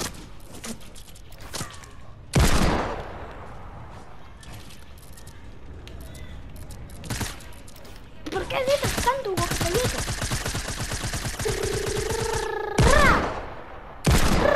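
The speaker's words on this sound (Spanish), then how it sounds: "No me llegan los disparos, Ian." Bursts of rapid gunfire in the video game Fortnite, with loud blasts, rattling volleys and brief electronic tones, and a player talking now and then between shots.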